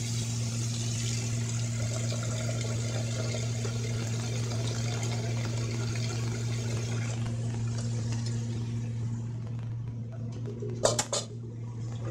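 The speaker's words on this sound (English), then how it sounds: "I'm going to add a little more water because I'm going to make a soup here." Water poured into a metal soup pot on a kitchen stove, a steady splashing stream over a constant low hum, ending with a brief clink of the pot.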